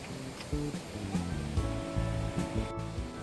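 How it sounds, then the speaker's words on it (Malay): Rushing water pours steadily, a broad continuous roar with no voices, like a tiered waterfall heard from close by. "Di sini terdapat beberapa tingkat air terjun."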